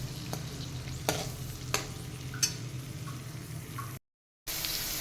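Green beans being stir-fried in a pan for green rice pulao, a low steady sizzle broken by a few sharp scraping strokes of the spatula, then a brief cut to silence before the frying resumes.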